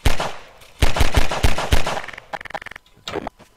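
Gunfire in the video game Garry's Mod: a burst of loud, sharp shots at an irregular pace, followed by a quicker run of lighter, evenly spaced rapid shots, with no talk over it.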